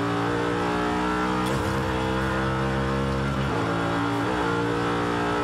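A Forza Horizon 5 game engine in a 750 hp twin-turbo BMW E92 M3 revs high and steady toward 9,000 RPM, with a strained, buzzing tone that dips briefly as it shifts and then climbs again.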